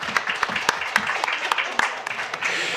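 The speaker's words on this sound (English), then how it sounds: "let's give her a round of applause" Audience applause at a school district governing board meeting, scattered hand claps from a modest group mixed with background voices, continuing steadily.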